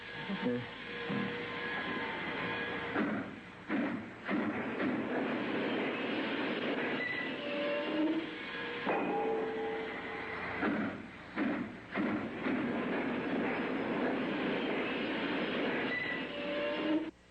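A train rumbles steadily past, wheels clattering over the rails with occasional high squeals, loud and close for the whole stretch.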